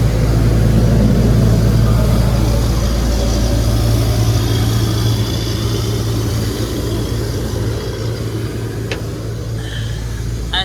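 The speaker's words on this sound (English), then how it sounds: "Got the street sweeper going." A Nissan Pathfinder engine, dirty and long-sitting, runs at a steady idle with a loud low rumble and a constant drone that eases slightly over time.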